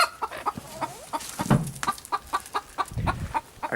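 Several chickens cluck in short, irregular bursts close by, a busy run of clucks and squawks with no talking.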